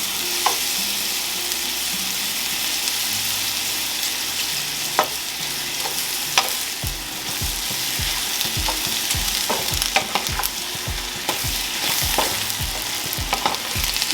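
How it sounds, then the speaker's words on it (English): Rice toasting in melted butter with mushrooms for risotto, a continuous close sizzle with repeated scraping and stirring of a spoon against the pan. "we'll just continue to keep toasting the rice, cooking down a little bit of mushrooms"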